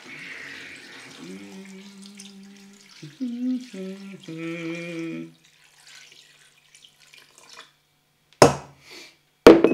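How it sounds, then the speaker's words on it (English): Water is poured into a cooking pot over raw tripe in a kitchen, a steady filling sound with a rising ringing tone, followed by a couple of short louder splashes near the end. "And then just cover it up just with enough water to cover the tripe."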